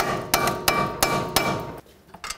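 Metal hammer blows driving bolts out of a Chrysler Sebring steering knuckle, five sharp strikes spaced about a third of a second apart, close and loud, the last two lighter after a brief lull.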